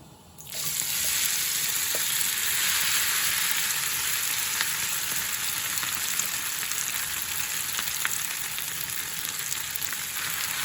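Shredded cabbage dropped into a smoking cast-iron pan over a medium flame, bursting into a loud, close sizzle that holds steady as a dense hiss for about ten seconds, with no voices.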